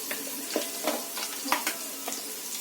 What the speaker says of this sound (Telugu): జింజర్ గార్లిక్ పేస్ట్ వేసుకొని ఫ్రై చేసుకోవాలి